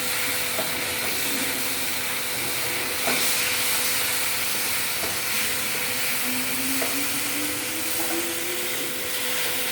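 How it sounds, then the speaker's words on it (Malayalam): A tomato sauce and soy mixture is stirred in a pan for chicken curry, making a steady, close sizzling hiss with soft scraping underneath that continues evenly throughout, with no voices. "ഇനി നമുക്ക് നന്നായിട്ട് ഇളക്കി കൊടുക്കാം"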